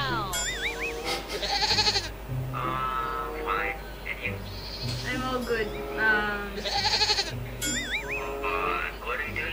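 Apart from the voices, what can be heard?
song with goat bleating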